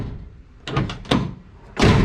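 A race car's door handled and shut, a few sharp metallic clicks and thunks, ending in a solid closing slam, close by with no talking.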